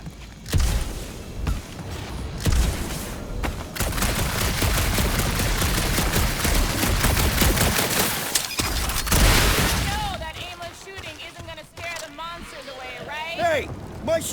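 Sustained, dense weapon fire and blasts in the action game Marvel's Guardians of the Galaxy, set in a dark alien ruin. The loud barrage runs most of the way through, then thins into scattered effects while characters talk.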